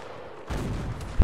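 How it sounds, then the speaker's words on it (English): Cannon fire in the Napoleonic-era battle game Mount & Blade: Napoleonic Wars, a low muffled rumble of gunfire across the battlefield building to a sudden loud close boom at the end. "Fire the cannon, Ben."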